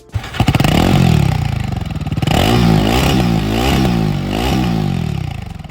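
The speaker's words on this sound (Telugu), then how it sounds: "ఈ బైక్ యొక్క ఎగ్జాస్ట్ సౌండ్ అయితే మీరు వినండి" A Royal Enfield Himalayan 450 motorcycle idles loud and close, its exhaust thumping steadily, then is blipped in several repeated revs that rise and fall, with no one speaking.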